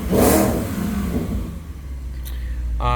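A 2016 Porsche Panamera GTS with active exhaust revs loudly up close, a quick rising blip that settles into a steady idle.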